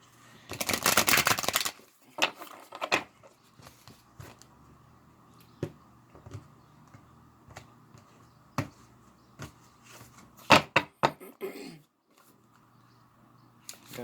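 Tarot cards are shuffled close by in a burst of dense riffling, followed by scattered soft taps and card flicks over a quiet room hum.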